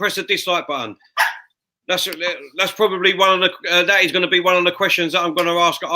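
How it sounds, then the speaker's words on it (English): A dog barks a few times in a room, short yips mixed in and under almost continuous live commentary-style talk during a football watchalong. "sorry, that's my dog."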